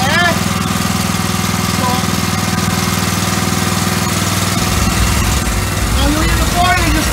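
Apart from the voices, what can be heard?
engine started and running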